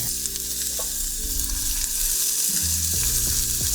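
Maître d'hôtel butter and mushrooms fry in a pan with a steady, close sizzle and crackle, broken by a few scraping stirs and clicks, with no voices over it.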